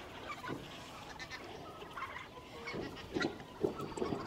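Free-range chickens and a rooster scattered around a farmyard make a busy chorus of clucks and calls, moderately close and continuous, with louder squawks toward the end.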